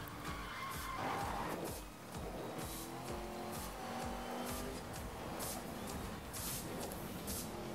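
Tires skid and squeal as a car slides through a race in Need for Speed: Most Wanted, a continuous loud screech over steady engine drone with a few sharper bursts, no talking.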